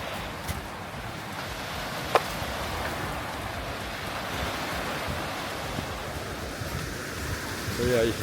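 Surf washes onto the beach at Hua Hin near the fishing pier, a steady close roar of breaking waves mixed with wind buffeting the microphone and a brief knock partway through.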